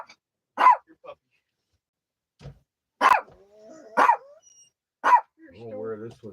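A puppy gives several short, sharp barks spaced a second or so apart, close by and outdoors, with a few quieter whines and vocal noises between them.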